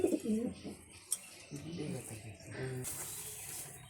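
Racing pigeons, including German DB birds, coo softly in a loft, their low calls coming in short bursts while a person talks nearby.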